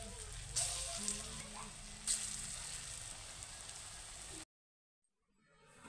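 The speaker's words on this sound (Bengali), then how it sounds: "এখন আমি বড়াগুলো ভেজে নেব।" Green jackfruit fritters fry in hot oil, a steady soft sizzle heard close but fairly quiet for about four seconds, with a couple of brief crackles, before the sound cuts off abruptly into near silence.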